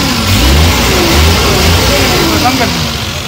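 A 2012 Suzuki Ravi pickup's engine runs and revs at a Sunday car bazaar, a loud, close mid-pitched roar that swells and eases, with people talking over it.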